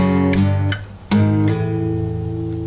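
An electric guitar plays a riff with plucked notes and sliding power chords, loud and sustained, with a short dip before a strong chord rings out.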